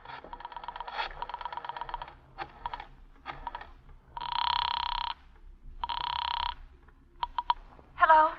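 An old-fashioned telephone bell rings in two long, clear bursts during a golden-age radio mystery drama, preceded by a brisk clatter like typing and followed by a couple of short taps and a brief ring.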